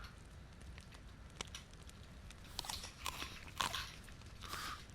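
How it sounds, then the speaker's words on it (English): Soft crunchy bites and chewing of a roasted peeled potato in DayZ, a few quiet crunches over a faint crackling campfire. "Nice crunchy, crunchy peeled potato. Roasted over a fire."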